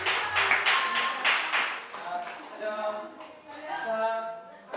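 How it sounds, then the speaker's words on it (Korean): A church congregation at a Sunday service claps for the children, a short burst of clapping at the start that gives way to children's voices and chatter. "우리 친구들 박수 받으면서 감사합니다 인사하면서"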